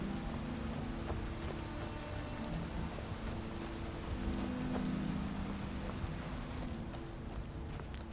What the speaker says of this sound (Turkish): Oh be yağmur bitti ya.